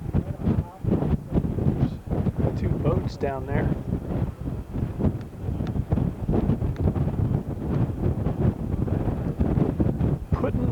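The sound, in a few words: strong wind blowing on the microphone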